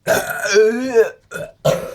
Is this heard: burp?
yes